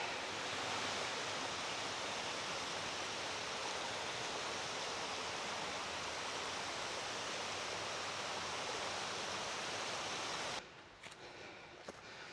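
Mountain stream rushing steadily along the path to a waterfall in the Haut-Jura, a dense, loud, continuous wash of flowing water close by that cuts out near the end.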